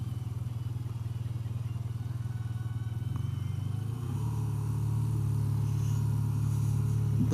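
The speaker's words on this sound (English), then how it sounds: "So this is a ride on the 2024 BMW R12 in the rain" A 2024 BMW R12 motorcycle being ridden in the rain, its engine a steady low drone that rises in pitch and loudness partway through as the bike accelerates, with road and wind noise around it.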